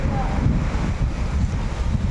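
Strong pre-monsoon wind buffets the microphone in a steady, loud low rumble with gusty fluctuations and no pauses.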